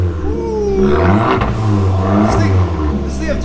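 Fiat 500 Abarth engine revving hard at a cold start, a loud, steady, deep rumble rising in pitch across a few seconds, with people talking over it.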